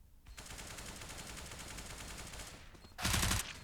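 Sustained automatic AK rifle fire from a Counter-Strike match on the Cache map, a dense continuous rattle of rapid shots for about three seconds, then a brief louder close-range burst near the end.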